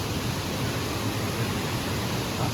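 A waterfall in Dean Village, Edinburgh, heard as a steady, dense rush of falling water, broadband and constant with no breaks, fairly close and filling the scene without any voices.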